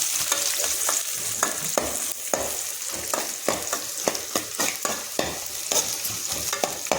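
Onions frying in hot sesame oil for a Tamil okra tamarind curry, a continuous close sizzle broken by repeated scraping clicks of a spoon stirring the pan, with no voices.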